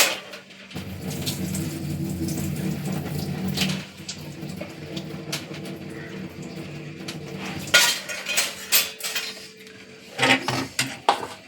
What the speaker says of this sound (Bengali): একবারই জল পাল্টে ডালটা ধুয়ে নেব